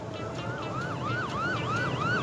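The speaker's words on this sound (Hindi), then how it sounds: "यूं एम्बुलेंस आई और उसे पकड़कर पागल खाने ले गई" An ambulance siren wails in quick, repeated rising and falling sweeps, steady and fairly close, with low road rumble underneath.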